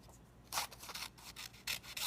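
Scissors cutting out a traced diamond shape in paper, a few quiet close-up bursts of snipping and rustling separated by short pauses.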